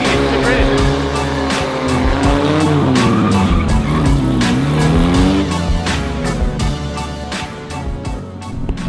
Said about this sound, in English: is a 40 horsepower donut